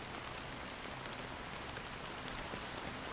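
Steady rain pours in Honkai Star Rail, a dense, even hiss of falling drops that holds at a constant level throughout, with no voices.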